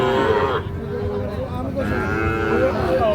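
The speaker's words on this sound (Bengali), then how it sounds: "এই দেখছেন হাটের সেরা গরু।" Sahiwal cattle at a livestock market low out in a long, drawn-out moo close by, followed by a second lowing call, with market chatter faint behind.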